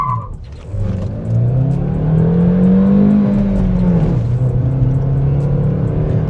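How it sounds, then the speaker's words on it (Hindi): A Maruti Suzuki Grand Vitara with a naturally aspirated engine accelerates hard from a launch, its note rising steadily as the revs climb toward 6000 rpm in second gear, loud and close with no talk over it. "भाई 6000 आरपीएम तक रैव हो रही है, दूसरे गियर में टच कर दी है 90 की स्पीड।"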